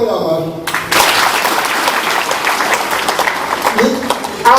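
An audience at a Burundian ceremony installing Abashingantahe elders breaks into loud, sustained applause after a brief spoken moment, clapping densely and evenly before another voice starts at the end.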